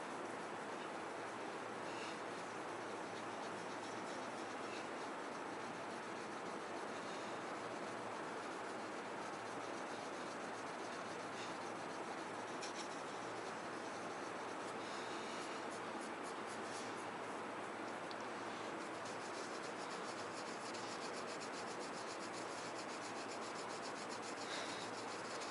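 A wet magic eraser scrubs steadily at a rusty chrome MagnaFlow exhaust tip, giving a continuous close, gritty rubbing hiss that runs nearly unbroken from start to end.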